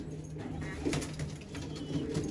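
Pigeons of an old-line purple Istanbul breed coo softly in a loft, several low repeated coos close by over a steady background hiss, with no talk.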